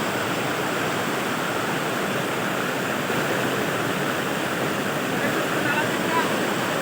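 Steady roar of a clear mountain waterfall at a picnic spot, water pouring over rocks as a continuous broadband rush that stays loud and unchanging throughout.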